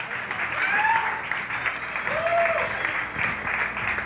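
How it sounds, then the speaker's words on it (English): Audience applause for a guest bachelor at a gay dating game event, steady dense clapping sustained throughout with a couple of faint whoops rising over it. "can we have a little bit of applause for our guest bachelor, Tom?"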